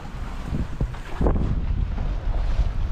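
Steady wind gusting across a sailboat anchored in about four and a half metres of water near a beach, a continuous broadband roar with microphone buffeting that swells louder midway and stays strong throughout, with no voices.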